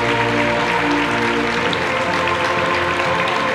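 A crowd applauds a girls' football team of SD Hispania during the club's team presentation, a dense, even roar of clapping that holds steady at moderate loudness.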